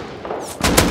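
Gunfire in the online survival game Rust erupts near the end: a sudden loud burst of shots, close and sharp, following a quieter stretch.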